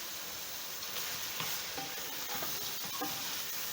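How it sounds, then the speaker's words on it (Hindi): Green chilies and garam masala frying in a pan for a beetroot and mutton dish, a soft, steady sizzle with faint stirring scrapes, fairly quiet and close, no talking. "थोड़ा सा हम भून लें ताकि इसमें से खुशबू आने लगे"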